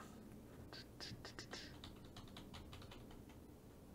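Steady clatter of computer keyboard typing, a dense run of quick keystrokes close up over a low room hum, with no voices.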